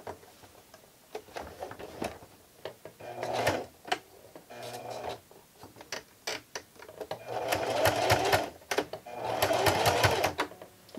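Sewing machine stitching a fabric face mask with white elastic straps, running in bursts of steady rapid needle chatter with short pauses, two long loud runs near the end, close and clear.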